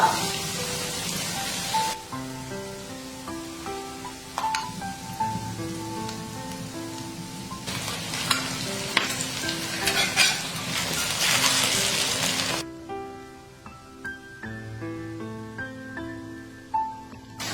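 A shredded potato pancake edged with scallion egg batter fries in a pan, its gentle sizzle and occasional stirring or pan sounds sitting under background music.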